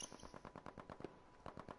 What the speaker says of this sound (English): This is going to be a clash of gunfire